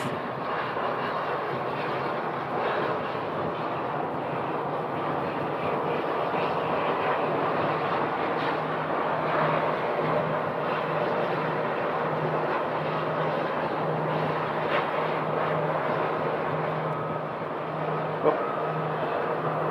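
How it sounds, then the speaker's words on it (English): A steady airplane engine hum and whine holds throughout at Sky Harbor airport, with a low tone gradually emerging as the engines spin up. Constant, moderately loud, no voices. "you can hear the engine start on this plane, but they are starting up"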